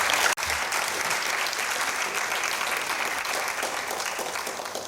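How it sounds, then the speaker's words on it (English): A large audience at a conference event in Lagos gives a steady round of applause. It holds a fairly constant level for several seconds after one sharp knock near the start, and no voices are heard. "Oh, please, another round of applause for them."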